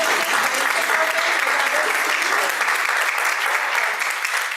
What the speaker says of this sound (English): can we have another round of applause for the most talented police department